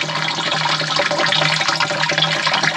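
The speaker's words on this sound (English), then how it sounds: "So the water goes in here, then it goes down into the sand." Water pours steadily into a homemade greywater sand filter, a continuous rushing, splashing flow, loud and close with no talk.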